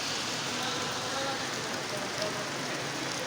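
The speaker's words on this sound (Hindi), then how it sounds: "ये देखें आप बारिश कैसे बरस रही है।" Steady, dense rainfall hisses evenly throughout, a broad wash of noise with no breaks.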